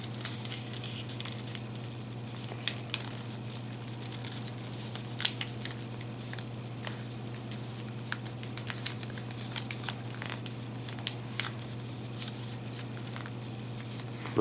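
Origami paper folded into a lily flower, with steady close crinkling, rustling and crisp creasing sounds over a constant low hum, quiet and continuous throughout.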